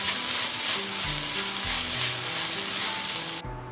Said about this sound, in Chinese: 放一些蒜米和一些花生油，一点生抽，接着翻炒，把它炒香。